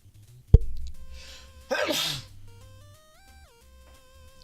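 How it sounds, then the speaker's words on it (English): A single sneeze, sharp and close, bursts out around the middle after a brief sniff, with quiet electronic tones and faint background hum around it. "I have to sneeze again."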